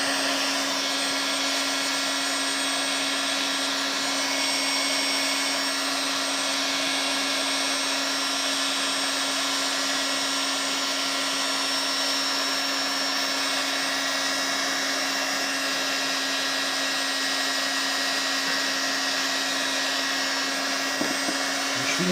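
A steady, loud electric heat gun or blower drones without a break while warming parts of a Peugeot 103 moped engine, holding one constant hum for the whole stretch.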